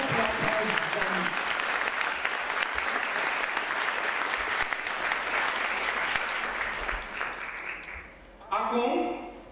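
An audience at a gala business conference in Serbia gives long, warm applause, a dense sustained clapping that fades out before a voice returns at a microphone.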